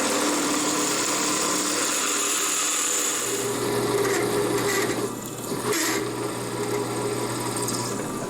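Drill press boring holes in a small squared metal surface gauge part: steady whirring motor with grinding cutting noise, close and continuous, with a brief dip as the bit eases off.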